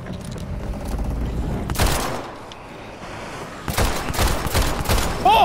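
Rapid bursts of gunfire in the video game Dead Island 2 crackle in a busy, noisy mix, with a loud flurry at the start and another barrage near the end.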